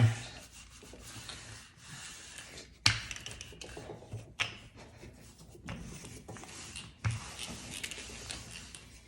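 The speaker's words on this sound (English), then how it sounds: "this is the last rolling of it" Croissant dough being rolled out on a floured surface for chocolate croissants, giving soft rubbing and rolling strokes with a few sharp taps and knocks, close and clear with no talk.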